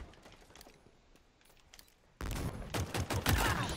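Rapid pistol fire in the Halo Infinite shooter, a fast burst of loud, closely spaced shots bursting in after a quieter stretch of soft game sounds.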